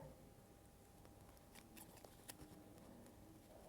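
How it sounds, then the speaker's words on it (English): Faint, sparse snips of scissors cutting through material, quiet and close, with a soft thump at the end. "I'll use the scissors."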